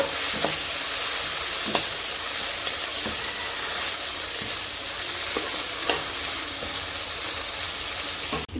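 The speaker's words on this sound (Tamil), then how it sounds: "இப்போ தக்காளி ஆட் பண்ணிக்கிடுவோம் இதையும் சேர்த்து நல்லா வதக்கிக்கிடுவோம்" Tomatoes sautéing in a pan for a country kezhuthi fish curry, a steady loud sizzle and frying hiss with occasional stirring scrapes, close up, no talking.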